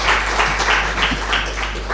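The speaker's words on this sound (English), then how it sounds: "Another round of applause, please." Audience applause for panelists at a school of computing and engineering launch event, a steady wash of clapping from a crowd that swells in waves over two seconds without pause.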